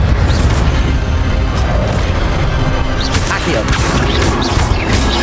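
Incendio fire spell cast in the Hogwarts Legacy video game, a steady roar of booming, crashing blasts that runs through the whole stretch, with game voices mixed in.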